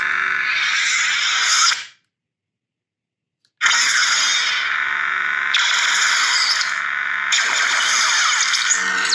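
Sound-reactive lightsaber producing blaster-deflect effects: loud, harsh, crackling electronic bursts with a shimmering hum, cutting to near silence for about two seconds, then several more sustained distorted blasts one after another.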